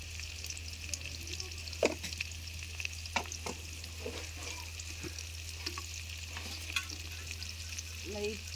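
Bitter gourd slices fry in oil during village-style cooking, with a continuous sizzling hiss, a low hum and scattered scraping clicks of stirring, close and moderately loud.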